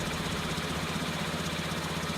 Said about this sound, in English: sounds a bit like a Victor lawnmower when it's idling